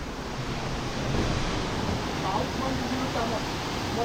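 The Hathmati waterfall in Sabarkantha roars with rushing water: a loud, continuous broadband wash heard from close at the base of the falls, steady throughout with no pauses.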